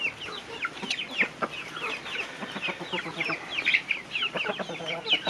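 Hens clucking repeatedly in a rural farmyard patio, a busy stream of short calls and chatter close by, with other birds faintly mixed in.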